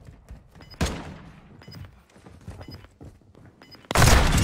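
Bursts of automatic gunfire from a shooter video game, a few loud sharp volleys with a heavy blast at the end, amid quieter game noise and thuds.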